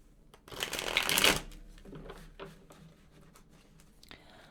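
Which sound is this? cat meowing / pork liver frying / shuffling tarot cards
shuffling tarot cards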